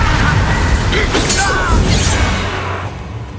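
A Bombarda blasting spell goes off in Hogwarts Legacy, a loud booming burst with shattering debris and a brief crash that decays into a fading rumble.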